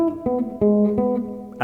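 A short bass guitar phrase in Bach style: four plucked notes in a steady rhythm, close and clear, each note ringing into the next.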